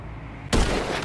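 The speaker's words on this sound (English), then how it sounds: "And now I'm taking a shot." A single sharp gunshot in GTA V cracks loudly halfway through, an abrupt burst that leaves a ringing, noisy tail, following a brief low hum.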